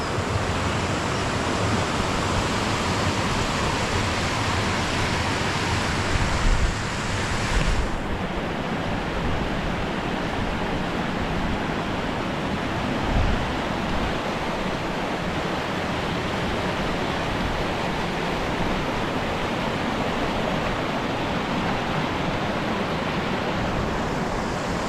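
Careyburn waterfall pouring steadily into its splash pool, a loud, constant broadband roar of falling water close by, unbroken for the whole stretch with no voices.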